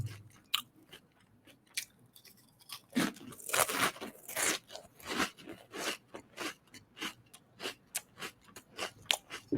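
Crunchy snack food bitten and chewed close to the mic, with a steady run of crisp crunches and crackles, each bite sharp and separate, and no talking.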